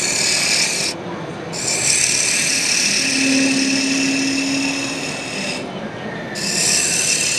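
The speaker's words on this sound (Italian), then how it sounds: "Adesso sto tirando via la materia in eccesso, quella che non mi serve per dargli la forma." A wood gouge carves away excess material to shape a spinning top, giving a steady rasping, scraping texture that runs throughout at close range with brief pauses between cuts. No one speaks.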